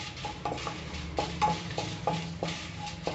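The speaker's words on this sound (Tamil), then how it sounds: "12 வரமிளகாவையும் நீங்கள் ட்ரை ரோஸ்ட் பண்ணுங்கள்." Twelve dried red chillies dry roasting in a pan on low heat, a quiet rustle broken by repeated light metallic scrapes and taps of a spatula against the pan.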